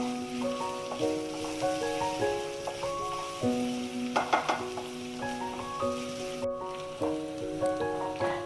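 Small onions sautéing in a pan give a steady, close sizzle with occasional stirring scrapes, heard under a louder background melody of sustained musical tones; no one speaks.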